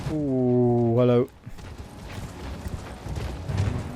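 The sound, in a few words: horse galloping hooves in Elden Ring video game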